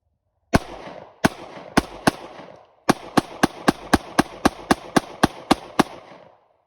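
Sig Sauer P365 pistol fired 17 rounds outdoors at a Gatorade bottle and balloon: loud sharp cracks, a few slow single shots, a pause, then a rapid steady string of shots, with no talking.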